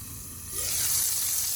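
Rainbow trout frying in a pan, with the sizzle rising sharply as the lid goes on partway through and then holding as a loud, steady hiss.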